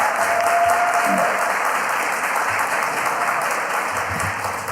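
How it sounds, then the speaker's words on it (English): An audience at the Hapeville candidates forum claps steadily and fairly loudly throughout, a continuous wash of applause with a faint tonal hum underneath. "we're going to ask you to hold your applause"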